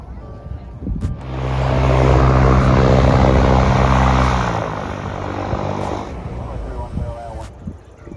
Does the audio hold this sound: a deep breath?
no